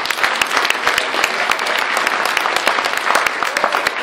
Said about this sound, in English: Can we just stand and just welcome Pastor Matt as he comes to share the word with us